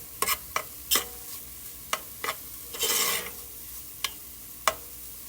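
Onion and garlic sautéing in a pan for minestrone soup: a soft, steady sizzle broken by sharp scrapes and clicks of a utensil stirring, with one longer hissing sweep partway through, close and fairly quiet.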